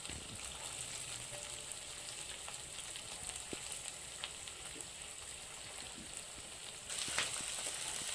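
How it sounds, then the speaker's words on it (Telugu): Garlic, curry leaves and onions sizzle and fry in a pan, a steady crackling hiss with scattered pops, growing louder near the end, with no voices. "వేసి ఒక 2 మినిట్స్ బాగా ఫ్రై చేసుకోవాలి."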